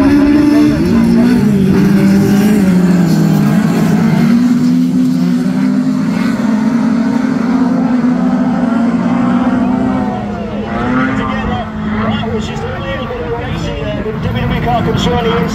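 Class 9 racing cars roar around a track during a national championship meeting, a loud continuous engine drone with shifting revs under an announcer's running commentary.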